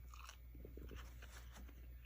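Crunchy homemade sauerkraut being bitten and chewed, a few soft, faint crunches close to the mouth over a low background hum, with no talk.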